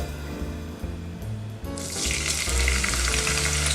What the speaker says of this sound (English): cut some spring onions and pour it in the hot oil